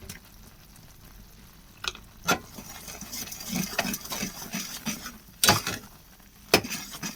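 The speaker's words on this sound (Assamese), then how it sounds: "গুড়ৰ লগত নিমখখিনি সানি লোৱা হৈছে।" Salt being stirred into hot melted jaggery in a pot while making a jujube pickle: soft scraping spoon strokes with a few sharper clinks of metal against the pan, close by, with no talking.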